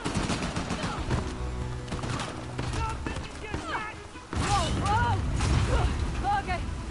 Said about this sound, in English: Oh, there's the guns.